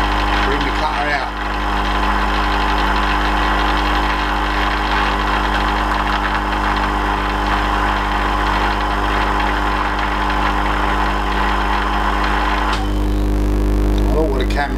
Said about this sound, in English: Switch the lathe off. Reverse it, take the cut off,